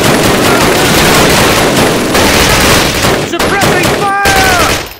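Sustained, loud machine-gun suppressing fire in a Call of Duty battle, with dense rapid bursts continuing throughout, brief gaps near the end and a faint whistling tone overhead.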